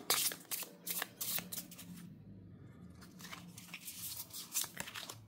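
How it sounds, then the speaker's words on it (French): Tarot cards drawn from a major arcana deck: a run of crisp papery shuffling and riffling, several quick card snaps up close, then a brief lull and more soft card handling. "Donc ici, on va tirer une carte dans le monde des arcanes majeurs"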